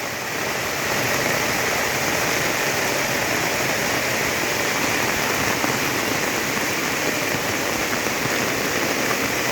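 Heavy rain pours down around a rural house, with water running down the path; a dense, even roar of downpour that continues steadily throughout.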